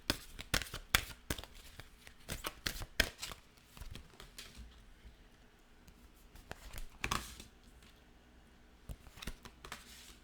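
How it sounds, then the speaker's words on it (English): Tarot cards are shuffled by hand in quick, crisp riffles and taps that come in irregular bursts, close and fairly quiet against a still room. "I'm going to shuffle a little bit more and then we will see what the cards tell."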